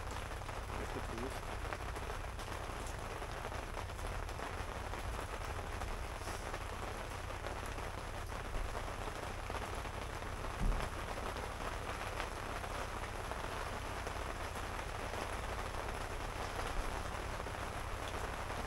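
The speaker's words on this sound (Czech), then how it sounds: "Bude tam slyšet, jak prší" Steady rain falls outside during a wet, muddy rally day, a dense continuous hiss of drops on surfaces that holds an even level throughout, with no voices.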